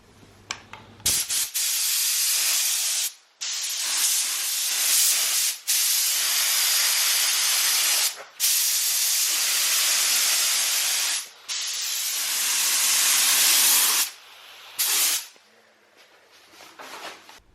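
An aerosol can sprays red paint onto the smashed roof of a Mazda RX7 in a quick dusting coat, loud close hissing bursts separated by brief pauses.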